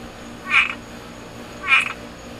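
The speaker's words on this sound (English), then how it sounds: "Listen to this frog." A frog croaking outdoors at night, two loud, clear croaks about a second apart over a quiet background hum, no talk.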